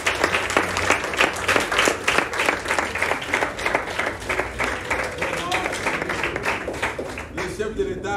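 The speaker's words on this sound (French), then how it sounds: "Est-ce qu'on peut applaudir pour les chefs de l'État?" A seated audience at an official school exam launch event bursts into sustained, dense applause, steady rapid clapping from many hands filling the room before tapering slightly at the end.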